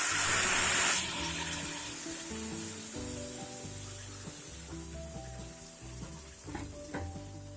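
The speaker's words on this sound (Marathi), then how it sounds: "आता आपण रव्याचा गॅस कमी करायचा आणि हे गरम पाणी हळूहळू यामध्ये ओतायचं" Hot water poured slowly into roasted semolina cooked in ghee for suji halva, giving a loud hiss and sizzle at first that settles into a steady bubbling fry under soft background music.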